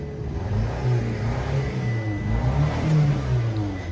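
Car engine revving with a slight misfire, a steady mid-pitched drone that rises and falls in a few uneven surges, close and moderately loud with no voices.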